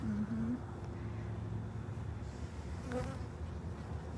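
Honeybees buzzing inside a hive around the queen, a dense continuous drone with a few louder passes close by, no talking over it.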